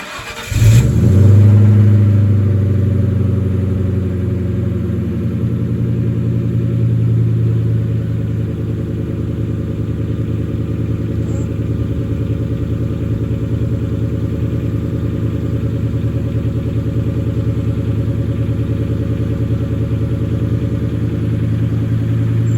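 A Ford Mustang engine cranks and catches, then settles into a steady, loud idle with a strong low rumble and slight revving surges that run close by for the full stretch, with no talk.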